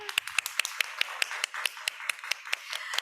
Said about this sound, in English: first a hand of applause for Elena.